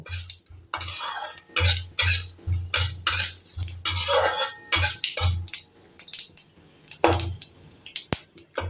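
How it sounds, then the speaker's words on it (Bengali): A utensil stirs tempering spices with turmeric in hot oil in a pan, with repeated scraping, clinking strokes in a steady, uneven rhythm, close and fairly loud, and no voice. "এটাকে 2 সেকেন্ডের মতো একটু নাড়িয়ে নেব"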